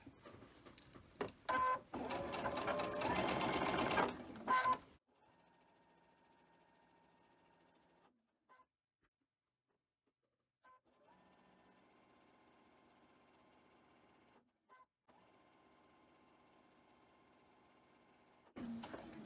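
Sewing machine stitching rows of a quilt block together, a low steady motor hum in two long runs separated by a short stop, faint and close, after a burst of handling rustle and before another at the end.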